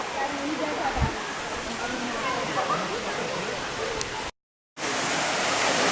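Waterfall heard as a steady wash of broad rushing water noise, fairly faint and continuous, with a brief dropout near the end and a voice speaking briefly.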